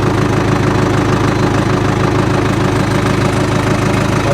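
A John Deere 450 crawler loader's diesel engine idles steadily up close, a loud, even chugging rumble with a rapid knocking pulse that holds without change throughout, no voices over it.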